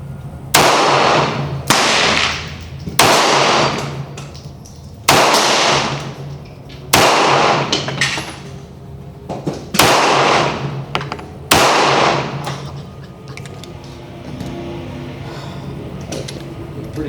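Gunshots from a snub-nosed revolver at a shooting range: about eight sharp, loud reports fired one at a time at a steady, unhurried pace, each trailing off into ringing echo, with quieter range ambience in the final seconds.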